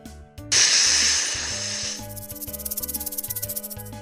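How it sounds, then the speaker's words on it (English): A snake hisses in one sharp, loud, breathy burst lasting over a second, set against a backdrop of bouncy children's music with a steady beat. "They hiss to warn others to stay away."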